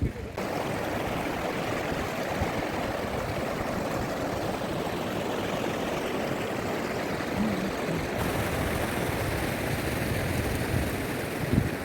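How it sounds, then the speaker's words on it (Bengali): A river flowing at Deorali river camp, a steady broadband rush of moving water that stays loud and continuous throughout, with no voices. "এই নদীতে এলাম।"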